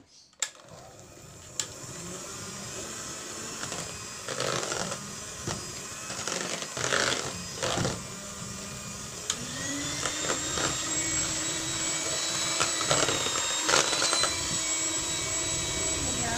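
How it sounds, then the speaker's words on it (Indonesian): An electric hand mixer whirs continuously through banana cookie dough in a home kitchen, its motor dipping and surging as the beaters work the bowl, while someone speaks quietly at times. "Kemudian saya akan mixer lagi sampai tercampur rata ya."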